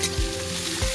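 Finely chopped onion hits hot oil in a pan, giving a dense, close sizzle for about a second with a couple of soft thumps from the pieces landing.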